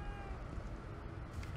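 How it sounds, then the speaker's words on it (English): A cat in The Evil Within 2 video game gives a short, faint meow over a low, steady ambient drone, with no voices present. "Oh, there's a cat."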